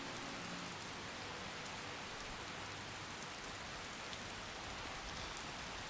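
Heavy in-game rain from Skyrim pours down continuously, a dense, even hiss of drops hitting surfaces with no breaks and no voices.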